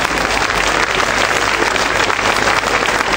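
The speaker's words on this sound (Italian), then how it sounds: "applauditevi da soli" Audience at an outdoor folk festival event applauding, a dense, loud wash of clapping from a large crowd that continues steadily for a few seconds.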